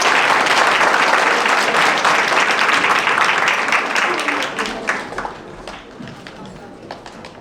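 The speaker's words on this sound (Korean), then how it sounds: "오늘 두 사람을 위해 특별히 자리해주신 목사님을 위해 큰 박수 부탁드리겠습니다." Wedding guests in a convention hall applaud for the officiating pastor, dense loud clapping that fills the room and gradually thins out toward the end.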